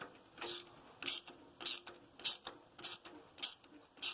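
A hand ratchet turning to prime the oil system of a Ford 400 engine, a close clicking burst repeating at a steady rhythm about every half second, seven strokes in all.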